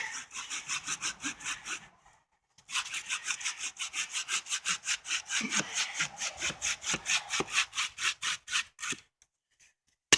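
A hand saw cuts through a thick, wet log, pushing and pulling in quick, even rasping strokes close up, with one short pause and a final stop.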